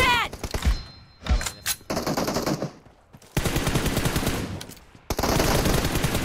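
Automatic gunfire in a two-versus-two team deathmatch shooter game: loud rapid bursts of rifle shots with sharp thumping impacts, broken by short pauses, mixed with excited voices talking over the fight.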